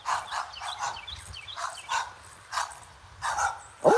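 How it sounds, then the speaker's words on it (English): A small dog barks repeatedly in short bursts at a distance, fairly faint, with a few sharp yips spaced irregularly. "Hear another little doggy up here"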